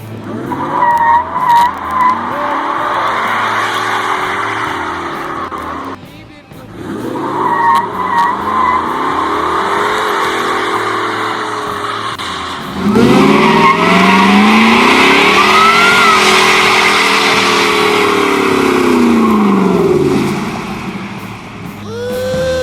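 Car doing a burnout at Long Beach Lightning, loud sustained tire squeal and skidding over a revving engine, rising and falling in long waves with a brief lull, then an even louder screeching stretch.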